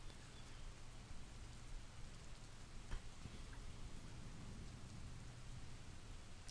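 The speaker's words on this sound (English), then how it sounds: "it's definitely Rain City outside." Rain falls outside in a steady, even hiss of drops, constant and moderately faint, with no voices and only a couple of slightly sharper taps.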